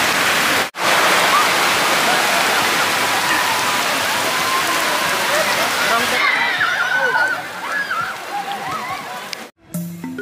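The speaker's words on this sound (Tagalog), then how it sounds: "sinabit kami ng ulan dito sa Tando Beach. Ang lakas." Heavy rain pours down at Tando Beach in Sulu, a loud, steady, dense wash of drumming water that carries on throughout, with voices faintly mixed in.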